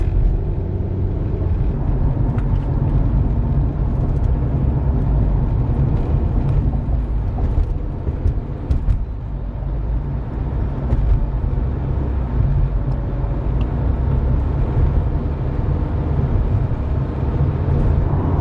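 A car rolls along the 5 freeway southbound in Santa Ana in light traffic, with a steady low road rumble and tire noise filling the cabin, continuous and even without speech.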